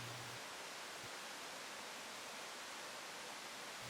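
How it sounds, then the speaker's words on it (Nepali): The Saniberi river flows beside the Muse Khola waterfall in Nepal, a dense, constant rushing hiss of water that fills the whole scene evenly and loudly, with no voices. "झरनाको नजिकै सानीबेरी नदी कलकल बगिरहेको हामी देख्न सक्छौँ"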